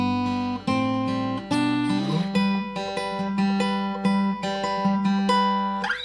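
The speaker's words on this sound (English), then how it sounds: "So let's start with the intro." Acoustic guitar plays the intro of a song: fingerpicked notes ringing over a repeated open-string drone, a steady walking pattern of plucks, close and solo without talk.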